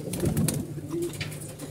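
A pigeon coos close by in a few soft, low, throaty calls, fairly faint and alone, amid light rustling.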